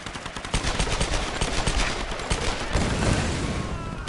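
Rapid gunfire rattles in Tomb Raider: Definitive Edition, with loud bursts and overlapping shots coming close together over a busy game soundscape.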